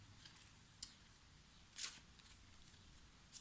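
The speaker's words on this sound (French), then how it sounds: "je vais vous tirer maintenant une carte conseil de l'oracle des fées" A single oracle card is pulled from a fairy oracle deck, giving a brief papery snap, then a louder rustling swish, all faint against a soft hiss of room noise.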